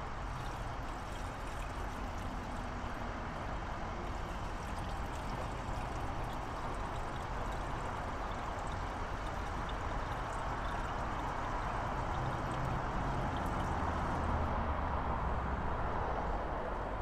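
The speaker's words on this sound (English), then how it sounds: "Look at that, no funnel pour." Coolant poured straight into a 5.7L Hemi cooling system without a funnel makes a steady, continuous splashing pour that runs unbroken for the whole stretch, fairly close and with no talking.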